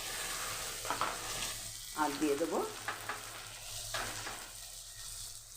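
Ginger-garlic paste fries with nearly browned onions in a pan, a soft sizzle with stirring scrapes while a voice speaks briefly.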